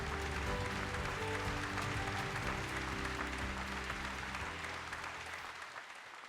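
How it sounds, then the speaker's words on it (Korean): A large audience at a Korean forum on low birth rates gives a sustained round of applause for the vice chair of the Presidential Committee on Ageing Society and Population Policy, steady and full before easing slightly toward the end. "주형환 부위원장님께 다시 한번 큰 박수 부탁드립니다."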